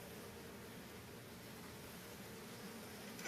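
Honeybees hum steadily inside an open hive during an inspection, a dense, continuous buzz close to the listener that holds at an even level throughout.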